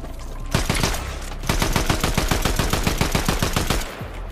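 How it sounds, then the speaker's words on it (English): Rapid automatic gunfire from the Fortnite Chapter 5 battle royale cracks out in a loud, close, sustained burst of evenly spaced shots lasting several seconds before stopping abruptly, with no talking. "Oh my gosh, okay, I'm getting shot at."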